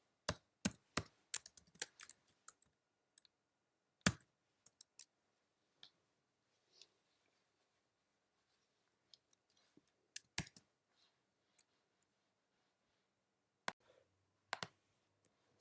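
Typing on a computer keyboard, heard as sparse bursts of sharp key clicks with pauses between them, quiet and close, with no voices.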